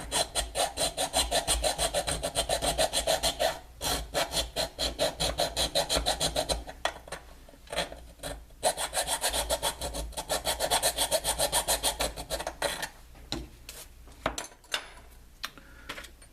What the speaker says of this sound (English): clean up with these little keyhole files here